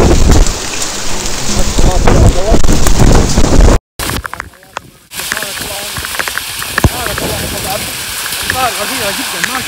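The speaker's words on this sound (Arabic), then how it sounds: "امطار غزيره، امطار غزيره غزيره جدا" Heavy rain pours steadily in Taif, a loud dense downpour with storm rumble, briefly cut off mid-clip before resuming, with people talking over it at times.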